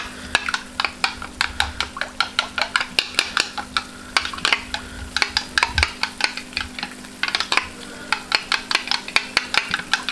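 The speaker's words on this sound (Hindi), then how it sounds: "मिक्स कर लेंगे जी इसको हिलाते रहेंगे ये नीचे ना लगे जी" A desi ghee mixture for kalakand is stirred continuously in a pot, producing brisk, regular scraping strokes, about two or three per second, over a faint sizzle in the background, with no talking.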